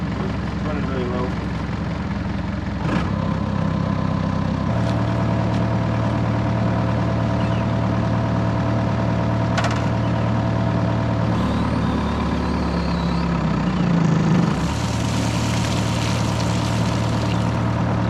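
The diesel engine of a broken excavator runs at low throttle, a steady, rough idling drone with a persistent low hum that shifts pitch a few times and surges briefly near the end, close by and continuous.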